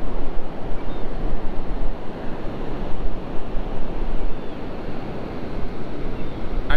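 Pacific Ocean surf breaking on a breezy beach, a loud, steady wash of waves mixed with wind buffeting the microphone, with no voices.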